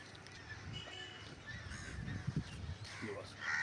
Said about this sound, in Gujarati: પક્ષીઓના કલરવ અવાજ આવી રહ્યા છે.